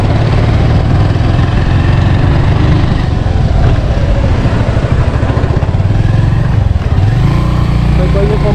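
Motorcycle engine running steadily while riding along the Butwal–Narayanghat road section under construction, loud and close with continuous low rumble throughout, with a person talking over it.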